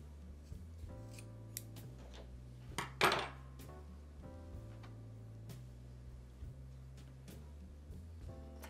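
Scissors snip through a coil of an oval coiled basket, cut at an angle: one crisp, close cut near the middle, with a few faint ticks over a steady low background hum.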